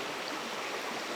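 A small shallow creek trickles and burbles in a steady, close, even wash of flowing water, with no voices over it.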